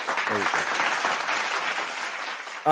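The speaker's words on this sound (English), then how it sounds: "Get the applause button." A burst of crowd applause sound effect, steady clapping that holds for a couple of seconds before a voice cuts in at the end.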